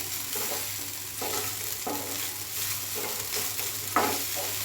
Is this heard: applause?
no